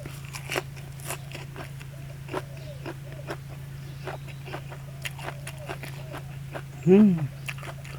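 Someone eats an apple snail dish up close with crunchy chewing. Sharp crunches come at a steady pace, with a louder burst near the end and a low hum underneath.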